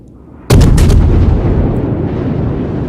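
Naval guns from a ship firing in the World of Warships video game, a sudden loud blast followed by a few quick rapid shots and a long rumbling decay, with no talk.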